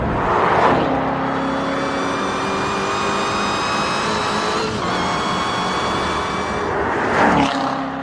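Chevrolet Corvette Z06 with a 650-horsepower engine accelerating hard, a loud sustained roar with rising engine pitch held for several seconds, with brief swells of passing noise near the start and end.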